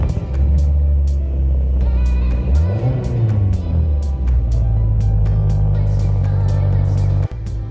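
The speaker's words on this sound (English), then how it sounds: "I just wanted to get the car started up so that you guys can see" A 1.8-liter Mazda Miata NA8 engine starts up and settles into a loud, steady idle with a deep rumble, rising briefly in a revving sweep before holding a constant drone, with a sharp drop near the end.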